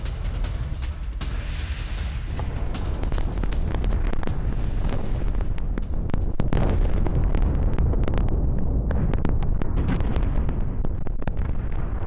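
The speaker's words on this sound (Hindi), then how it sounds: "कामयांग में इलाके में जोरदार धमाका हुआ" A heavy, rumbling wartime explosion in the Russia-Ukraine war, with crackling bursts and wind buffeting the microphone, the roar rolling on for several seconds before thinning out.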